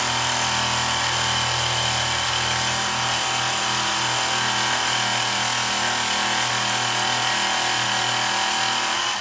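Steady, continuous grinding of a knife edge on a blade made from a hacksaw blade, worked with 240 grit abrasive; a loud motor whine with dense high rasp runs unbroken throughout, with no talking.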